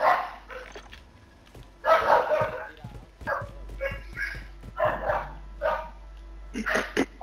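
A dog barking inside the Call of Duty game, a few sharp yips and barks spaced across several seconds, mixed in with loud, excited talking.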